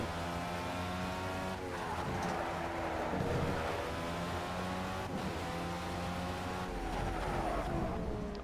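Race car engine in Project CARS, a loud sustained high-revving roar with harmonic pitch sweeps as the car shifts through gears, tires squealing at times through the corners.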